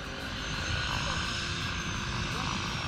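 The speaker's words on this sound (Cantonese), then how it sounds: "琴日講冇飛機，即刻有架飛機啊！" A steady droning airplane engine hums throughout, a continuous low roar from a distance with no break, near the Green Island airport in Taitung, Taiwan.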